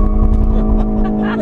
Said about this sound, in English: We hit the accelerator. There it is. It's on. Just let go. There it goes.